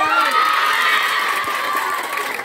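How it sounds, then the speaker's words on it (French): A crowd cheers and shouts loudly, a dense wash of voices and applause that fades slightly toward the end. "sous vos acclamations, veuillez accueillir Tamsir."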